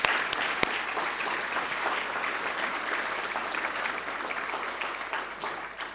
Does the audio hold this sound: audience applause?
yes